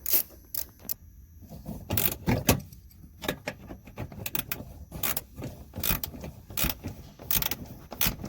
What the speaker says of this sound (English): we'll wrench these 2 out right here, and then we're gonna get that one at the bottom